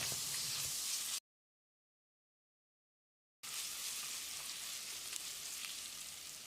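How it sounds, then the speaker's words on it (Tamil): Ginger garlic paste sizzling with onions in a hot pan, a loud steady frying hiss that cuts out abruptly for a couple of seconds and then resumes just as strongly. "இதில் 1 டேபிள் ஸ்பூன் இஞ்சி பூண்டு விழுது சேர்த்து பச்சை வாசனை போகிற அளவுக்கு ஒரு 30 செகண்ட் பரட்டி விட்டுடலாம்"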